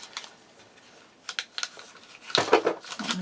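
Blue scissors snip through a sheet of peel-and-stick embroidery stabilizer, giving a few faint, sparse clicks followed by a louder cluster of crisp cuts, close and quiet with no talk.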